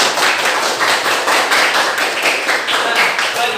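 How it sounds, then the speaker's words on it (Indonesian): Group of people in a school classroom clapping hands together in a fast, rhythmic, patterned beat, loud and close, continuing evenly throughout. "kita tepuk tangan untuk kita semua"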